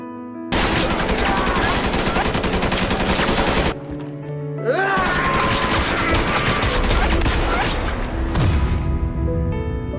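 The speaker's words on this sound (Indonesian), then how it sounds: "Dan seketika ratusan tembakan menghujam ke arah dirinya." Gunfire in a film scene as hundreds of shots are fired at one man, dense rapid volleys crackling loud and continuous, a brief lull near four seconds, then heavy firing resumes with sharp impacts.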